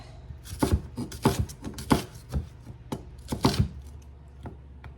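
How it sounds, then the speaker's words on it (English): An onion diced with a knife on a cutting board for cabbage, about a dozen close, thudding chops in uneven clusters with no talking. "I have an onion I'm going to go ahead and dice up."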